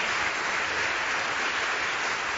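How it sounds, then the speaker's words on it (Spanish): Sustained, dense applause from a congregation at a Pentecost church service, steady and even throughout with no voices rising above it. "Si quieres aplaudir, aplaude, porque te nace del corazón."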